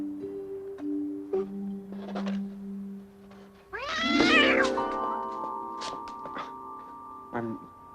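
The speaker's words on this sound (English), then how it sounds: "Poor old cat." A cat meows in an indoor film scene: several short cries, then a louder drawn-out yowl in the middle, with faint voices and small knocks around it.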